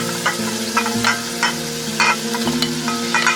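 Chicken pieces are stirred into a sizzling tomato masala with separated oil for a dhaba-style curry: repeated scraping spoon strokes over a constant sizzle, close and loud, with a steady low hum underneath.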